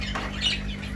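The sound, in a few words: lovebird parrots squawking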